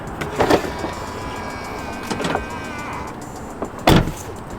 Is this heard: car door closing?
yes